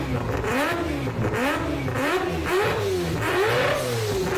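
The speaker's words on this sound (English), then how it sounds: "I think that's Mazda 4-rotor RX-7. That's a 4-rotor. Yeah, it's a 4-rotor with a massive turbo." A Mazda RX-7 with a four-rotor engine and a large turbo revs hard, its pitch rising and falling in repeated loud sweeps, with a raspy, buzzing rotary tone throughout.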